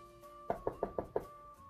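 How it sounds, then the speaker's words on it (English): Five quick, even knocks on a door, close and crisp, sounding in a steady rhythm against a quiet background. "Little Miss Contrary knocked on Mr. Happy's door"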